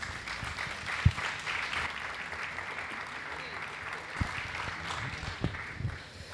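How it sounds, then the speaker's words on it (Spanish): An audience at a talk about the BRICS countries applauds in a steady wash of clapping, with a few sharper individual claps and some voices mixed in underneath. "Un aplauso"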